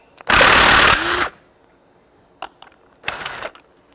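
A reverse-thread nut on a Harley primary drive is loosened in two sharp mechanical bursts, a long loud rattling whir followed by a faint click and a second, shorter burst.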